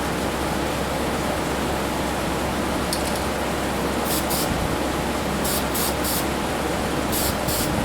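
A spray can hissing paint onto a Chevrolet 283 V8 engine, a continuous loud hiss broken by short bursts and pauses, close to the mic with no talk.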